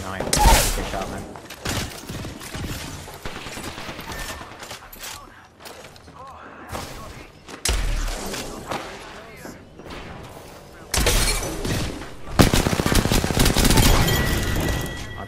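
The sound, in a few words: gunfire in the video game Apex Legends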